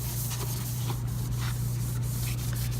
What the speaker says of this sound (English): we're going to use a little rubbing alcohol and just wipe that down